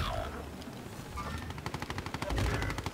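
Rapid bursts of gunfire and booming cannon fire from a multiplayer shooter video game ring out in quick repeating bursts, loud and close, with no talk over them.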